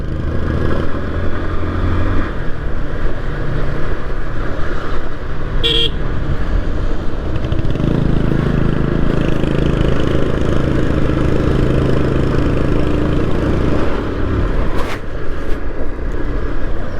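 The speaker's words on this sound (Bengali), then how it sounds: "এই সাউন্ড শুনেন রয়্যাল এনফিল্ডের।" A Royal Enfield 350cc motorcycle engine runs loud and close with a steady thumping rumble, while passing road traffic and a brief car horn toot sound in the background.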